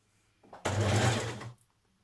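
A sewing machine runs in one short, steady burst of about a second, stitching a 1.5 cm seam to set a sleeve on a Burda 6310 casual dress with a stretch stitch, close and fairly loud, with no talk.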